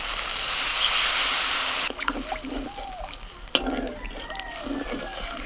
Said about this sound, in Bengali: মশলাটা ভালো করে কষিয়ে নিয়েছি আর মশলা থেকে তেল ছাড়ছে, এখন জল দিয়ে দেবো।